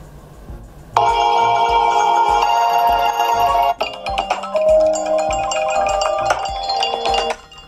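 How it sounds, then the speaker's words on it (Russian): A Google Pixel 8 Pro ringtone plays alone: a bright, repeating electronic melody of chiming notes with a steady pulse, close and clear for several seconds. "Так, не история уведомлений, мне нужно, а звуки."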